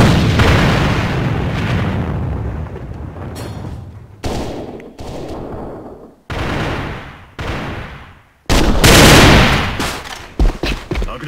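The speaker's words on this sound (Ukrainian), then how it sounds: "Бросаю гранату!" A grenade goes off amid heavy gunfire in the online shooter AVA, loud booming blasts and rapid shots crowding together in close bursts with brief gaps between them.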